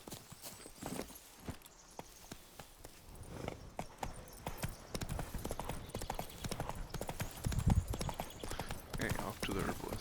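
Horse hooves clip-clopping steadily in The Witcher 3, a continuous rhythmic trot under faint game ambience with a brief snort or whinny, fairly close and moderately loud.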